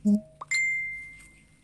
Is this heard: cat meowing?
no